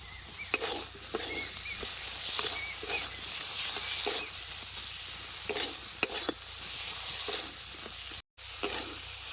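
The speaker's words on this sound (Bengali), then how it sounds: "সমস্ত মশলাপাতি দিয়ে কিন্তু মশলা ভালো মতো কষায় নিছি আর দেন কত সুন্দর তেল ছেড়ে আসছে" Spices with ginger and ripe tomato stir-fried in hot oil for a rural Bengali ghugni, a steady close sizzle broken by repeated scraping stirs and brief pauses, with no voices.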